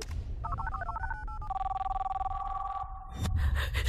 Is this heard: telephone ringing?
yes